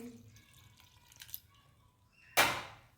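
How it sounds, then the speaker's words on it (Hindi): A short splash of about a glass of water poured into a pot of thickened ragda, a sudden gush after quiet kitchen clatter and low background hum. "उसमें हम तकरीबन 1 गिलास जितना पानी डालेंगे"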